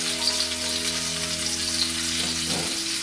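Food sizzles steadily in a frying pan while cooking chicken cordon bleu, a constant crackling hiss over a low background hum, with no talking.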